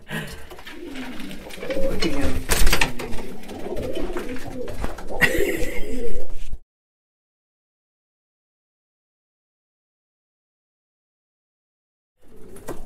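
Racing pigeons coo and flutter up close in a loft for several seconds, then everything falls silent before a brief noise returns at the end.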